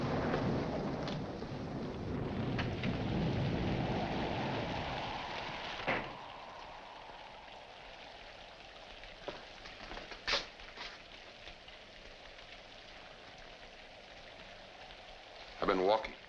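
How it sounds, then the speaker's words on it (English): Heavy rain hisses loudly at first, then thins to a quieter steady patter, broken by a few isolated sharp knocks and a brief louder burst near the end; no thunder is clearly evident. "In this rain? Yes, in this rain."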